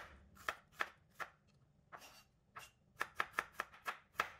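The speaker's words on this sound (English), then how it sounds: "Slice the shallot thinly" A knife slices a shallot thinly on a cutting board, about a dozen crisp close taps in an uneven rhythm, quickening into a rapid run near the end.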